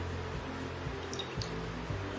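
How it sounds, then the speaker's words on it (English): Oil poured into a mixing bowl for a chocolate sponge cake, a soft continuous liquid trickle with a few faint drips and shifting tones under a steady background hiss, close and quiet with no talk. "Into this bowl I'm going to add in my oil,"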